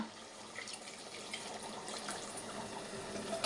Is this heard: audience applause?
no